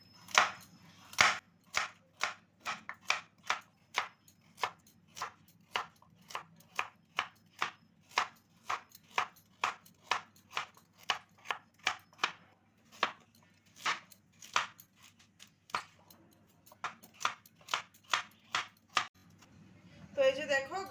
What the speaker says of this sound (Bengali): এবারে এগুলো কেটে নেব। তো এইভাবে একটু ছোট ছোট পিস করে নেব।